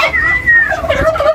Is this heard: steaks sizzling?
no